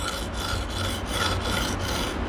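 Ganzo Razor knife sharpened on a wet whetstone with back-and-forth sawing strokes, a loud rasping grind repeating about every third of a second, steady and close, with no talking.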